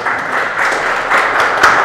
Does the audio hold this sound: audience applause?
yes